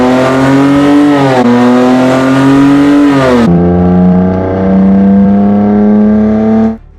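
Lexus IS300 engine revving hard, a loud sustained rising pitch that drops and climbs again as it shifts, then holds steady before cutting off abruptly.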